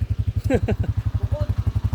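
A TMX125 Alpha motorcycle converted to a 200cc engine idles during break-in, its exhaust thumping in a fast, even pulse close by, with brief voice-like sounds in the middle.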